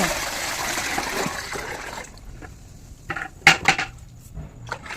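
Cow dung is diluted with water in a large bucket, giving sloshing and splashing at first, then a few sharp clattering knocks against the bucket near the end.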